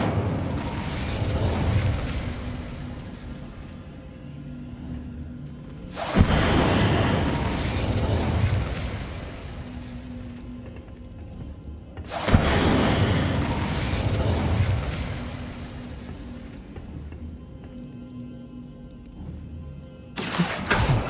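The Incendio fire spell blasting in Hogwarts Legacy, three loud whooshing bursts of flame spaced several seconds apart, each swelling and then fading into a low rumble.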